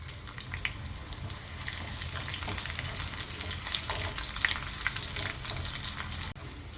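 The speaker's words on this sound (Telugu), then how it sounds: "తాలింపు కొద్దిగా ఫ్రై అయిన తర్వాత కరివేపాకు వేసుకోవాలి." Curry leaves crackle and spit in hot tempering oil with seeds, garlic and dried red chillies, a loud, steady close sizzle with occasional stirring scrapes and a brief knock near the end.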